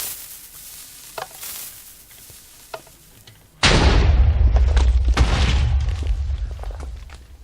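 A TNT cannon fires in Minecraft: after a few seconds of quiet rustling and small clicks, a sudden loud blast hits, followed by a sustained, crackling rumble of explosions that fills the rest of the moment.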